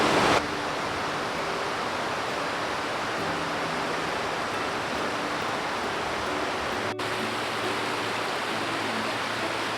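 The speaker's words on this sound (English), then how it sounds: "looking at some waterfalls along the creek" Steady, full rush of waterfalls tumbling along a creek in a national forest, a continuous broadband roar with no voices, constant in level throughout.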